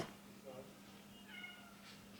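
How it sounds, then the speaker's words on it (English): A cat meows and howls at a door, several short plaintive cries spread across the moment, faint and somewhat distant under a quiet background hum. "My cat's at the door."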